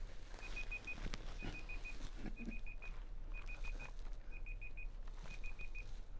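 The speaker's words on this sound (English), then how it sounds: "We left our timer on." A kitchen timer beeps in regular bursts of short electronic tones, about six clusters, faint under steady background hiss.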